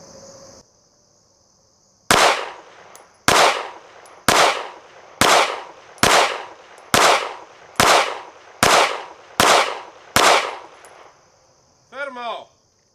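Ten loud gunshots from CCI Blazer ammunition ring out in a steady, evenly spaced string, each sharp crack trailing into a short decay, with quiet before and a faint chirp after.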